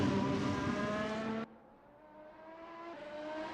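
A race car's engine drones loud and high through corners 12 to 14 at the Autopolis circuit, then the pitch and volume drop sharply partway through as it lifts and pulls away, climbing steadily again toward the end.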